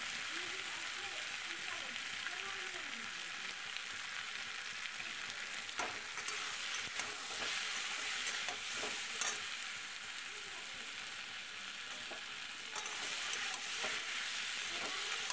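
Tomato and eggplant fry together in a pan for a Bengali fish-and-eggplant curry, giving a steady, close sizzle with scattered scraping stir strokes throughout and no talking.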